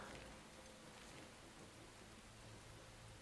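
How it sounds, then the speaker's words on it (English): Rain in the video game Enshrouded falls as a soft, steady hiss of drops on surfaces, quiet and even, with no talking over it. "I can hear the rain in the game."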